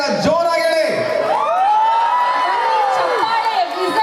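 A crowd at a Kannada Rajyotsava celebration in Hamburg cheers and whoops, with long, rising and falling shrill whistles sweeping over the noisy, close hall and clapping mixed in.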